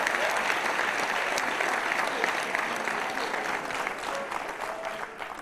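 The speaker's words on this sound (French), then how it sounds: "Ouais, on peut applaudir, c'est mieux, toi." Sustained audience applause at a comedy show, a dense wash of many hands clapping that holds steady then slowly tapers off, with a murmur of voices underneath.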